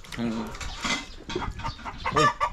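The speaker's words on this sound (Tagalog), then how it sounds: "Uy, manok." Chicken clucking nearby in a short burst of bird calls, mixed with people chatting over a meal.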